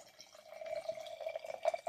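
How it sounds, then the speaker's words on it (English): A cold mixed drink pours steadily into a cup, a faint continuous trickling fill with a few small splashes, heard alone. "Pour it into your cup,"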